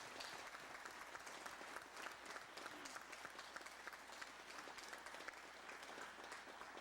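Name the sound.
audience applause at a concert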